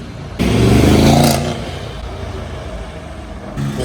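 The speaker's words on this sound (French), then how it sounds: "JMK sur le départ avec sa E63S" A Mercedes E63S pulls away in Monaco with a loud burst of engine revving and acceleration, then fades as it drives off, the exhaust note dropping into a quieter background of street noise.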